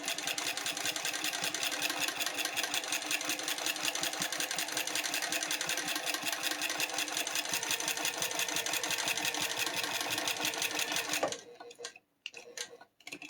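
A Juki TL2000 sewing machine runs at a fast, even stitching rhythm for about eleven seconds, then stops, leaving a few soft clicks and near silence.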